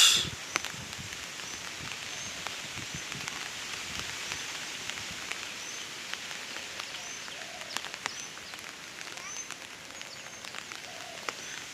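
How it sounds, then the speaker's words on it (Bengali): Light drizzle falling on a mango orchard in Chapainawabganj under cloudy, breezy skies, a soft continuous patter of drops on leaves and surfaces, faint and steady with occasional louder drips. "সকাল থেকে ঝিরিঝিরি বৃষ্টি হচ্ছে"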